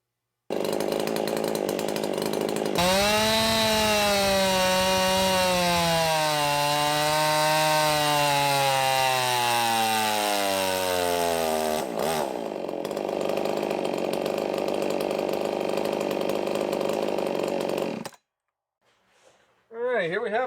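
A hybrid Husqvarna 359/272 chainsaw, ratty-looking, fresh off the dyno, revs up to a loud, sustained high-pitched scream, holds, then drops and cuts off abruptly, with a brief restart burst at the end.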